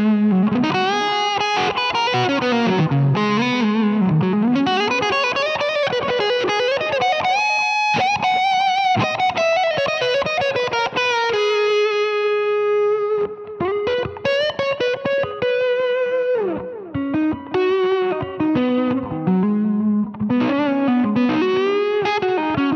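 An electric guitar played with a pick through a Line 6 Helix rings out in sustained, effects-laden melodic lines with sharp pick attacks and long held notes.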